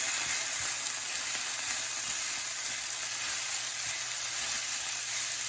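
Spaghetti noodles being stir-fried with soy sauce in a pan, a loud, continuous sizzle and hiss with faint stirring scrapes, heard alone without voices.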